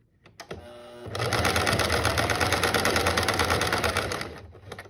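A sewing machine stitches fabric for a mask made from a repurposed carved case bag. It starts with a few slow clicks, then runs in a steady, loud, fast mechanical whirr for several seconds before slowing to a stop.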